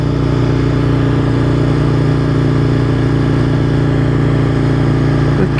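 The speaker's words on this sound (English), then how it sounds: "Mind you, I would admit this bike is very noisy, to say the least." A loud Aprilia motorcycle engine droning steadily while riding, a constant mid-pitched roar with wind rumble that stays near and unbroken throughout.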